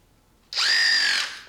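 A Snap-on 14.4V long-neck 1/4-inch drive electric ratchet whirs into a high, steady motor whine after a moment of quiet, holds for most of a second, then winds down.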